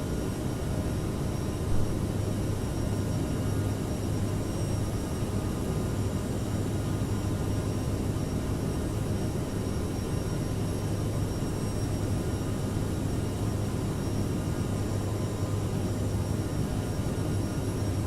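Airliner engines in Microsoft Flight Simulator drone in a continuous, broad, steady roar with a faint low hum, unchanging and alone without talk.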